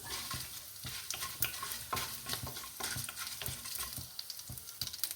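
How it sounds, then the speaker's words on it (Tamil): Mustard seeds, cumin, a dried red chilli and a pinch of asafoetida splutter in hot oil, giving a close, continuous sizzle with sharp popping crackles and stirring scrapes throughout. "கொஞ்சமாக பெருங்காயம், கடுகு நல்லா பொரியுறது"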